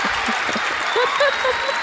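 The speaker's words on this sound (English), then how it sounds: "can we just take a moment to clap for English teachers?" Theater audience applauding at a live show at the Connor Palace in Cleveland: a steady, dense wash of clapping with a voice faintly speaking over it.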